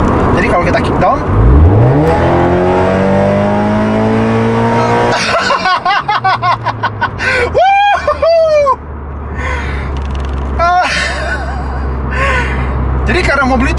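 A Toyota 86 sports car, light at 1.2 tonnes with 200 horsepower and a quick-shifting gearbox, accelerates hard on kick-down, engine revs climbing loudly through rapid gear changes, with someone talking over it in the cabin.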